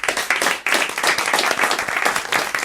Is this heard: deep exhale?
no